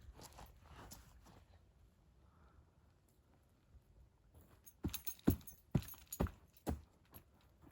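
A person imitates heavy footsteps heard in the woods, making a series of about five or six thudding knocks spaced unevenly after a quiet stretch of faint rustling.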